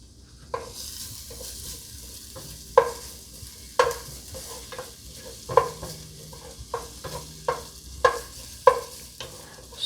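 Ginger sizzles in a hot pan at the start of pumpkin and beans in coconut milk, with a steady fry broken by a dozen sharp scrapes and clacks of stirring, fairly close and clear.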